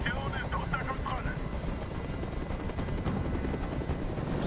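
A helicopter in the video game Detroit: Become Human, a steady rotor thrum and whine filling the whole stretch, with voices speaking over it.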